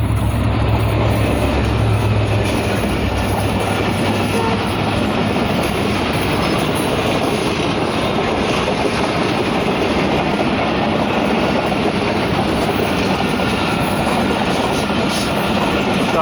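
Millat Express passing Risalewala railway station, a loud continuous rumble of rolling carriages with rhythmic wheel clatter and a low engine drone at the start, steady throughout.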